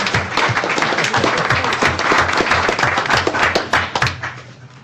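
Audience at a school district board meeting applauding, a loud close burst of many hands clapping that holds steady for several seconds and then starts to thin out toward the end.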